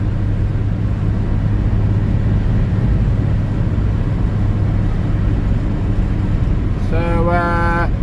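A Ford XF Falcon drives along, heard from inside the cabin as a steady, loud engine-and-road drone with no breaks, and a short voiced sound near the end.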